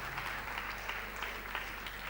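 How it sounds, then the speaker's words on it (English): An audience at an education talk claps lightly for about two seconds, a soft, even patter of hands with no voices over it. "That's the sort of applause you give to 3-year-olds."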